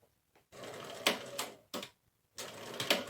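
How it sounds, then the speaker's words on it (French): A sewing machine runs a straight-stitch seam about 1 cm from the edge of fabric for a small storage basket, in three short bursts of fast mechanical whirring separated by brief pauses. "Donc je vais faire ma couture tout le long."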